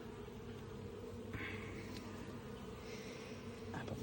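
Honey bees swarm around an opened beehive during a hive inspection, a quiet, steady buzzing drone with a few nearer bees passing briefly.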